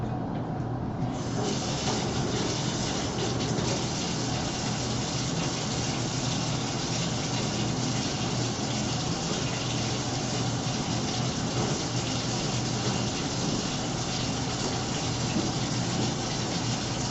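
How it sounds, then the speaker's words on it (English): Tap water gushes steadily into a Mr. Beer plastic fermenter keg, filling it with about a gallon of water and no-rinse cleanser: a continuous, even hiss of pouring water that holds for the whole stretch, close and fairly quiet. "fill that fermenter with about a gallon of water"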